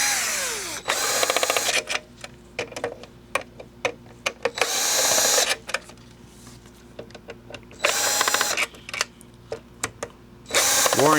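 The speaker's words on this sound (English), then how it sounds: "Let's find the drill." A power drill works on a Philips VAD6035/21 disc drive in repeated loud whirring bursts of one to two seconds, separated by quieter stretches of clicks and handling noises over a steady hum.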